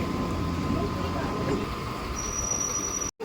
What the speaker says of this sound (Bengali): আমাদের ট্রেন ছেড়ে দিল শিয়ালদা স্টেশন থেকে।